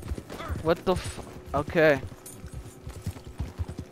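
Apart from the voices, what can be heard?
horse hooves in Red Dead Redemption Online video game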